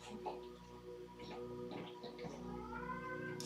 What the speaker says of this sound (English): What's the matter, kitten?